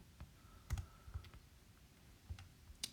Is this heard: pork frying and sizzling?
no